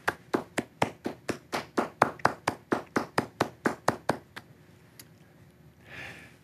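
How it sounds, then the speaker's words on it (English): A single person claps about eighteen times in a steady, close rhythm for award winners at a virtual science innovation awards event, then stops, leaving a quiet pause and a faint rustle. "please give a rousing at-home round of applause for all of our 2020 Educator Excellence Award winners"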